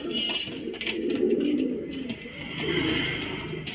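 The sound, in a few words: pigeons cooing at a pigeon loft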